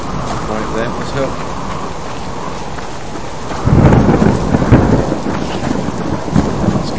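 Heavy rain pours steadily in the survival game Subsistence, with a deep rumble of thunder swelling midway through a stormy day, while someone talks over it.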